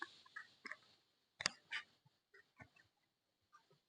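Birds calling from a flock passing overhead outdoors, a run of short honking, fowl-like calls in uneven bursts, some loud and close, others fainter, with quiet gaps between them.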